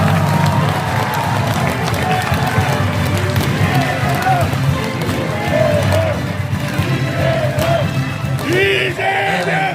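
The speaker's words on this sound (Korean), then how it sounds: "여러분 큰 박수로 이재명 당대표님을 무대 위로 모시겠습니다." A large outdoor political rally crowd in South Jeolla welcomes Democratic Party leader Lee Jae-myung onto the stage at a protest against prosecutors, with loud, continuous cheering, clapping and shouted chants from many voices throughout, rising in bursts near the end.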